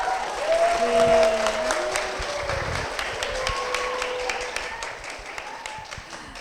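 Church audience applauding during a worship service segment, steady clapping that swells near the start and continues throughout, with a presenter's voice speaking briefly over it.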